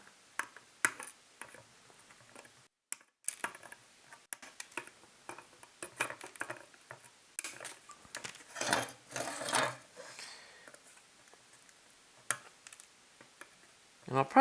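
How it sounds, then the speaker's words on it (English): Wire cutters snip component leads on an all-tube phono preamp main board, giving a scattered run of sharp, close clicks and ticks with quiet gaps between them. "snip these leads"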